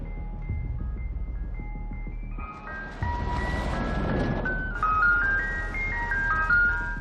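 An ice cream van's chiming children's tune plays loud and steady in a movie scene, its melody stepping through bright sustained notes over a dense, rumbling background.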